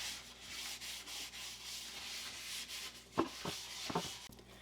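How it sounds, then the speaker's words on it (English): Butter is rubbed across a baking pan, giving a soft, continuous scraping and smearing close by, with a few sharper scuffs near the end. "At first, we should grease our pan. Butter it, is what my directions tell me to do."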